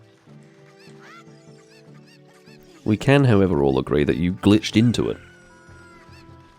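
A Cucco chicken from Zelda Ocarina of Time 3D lets out a burst of loud squawking clucks in the middle of the clip, with someone talking before and over it.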